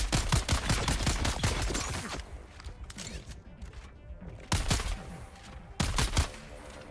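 Rapid bursts of gunfire in the video game Dune: Awakening, with dense volleys for about two seconds, a quieter gap, then two more sharp bursts near the end.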